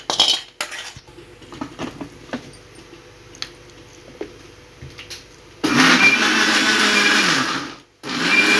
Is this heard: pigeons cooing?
no